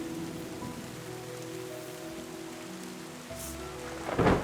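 Rain patters steadily in the video game Terra Nil, a soft continuous wash under tonal game music, with a brief louder rumble near the end.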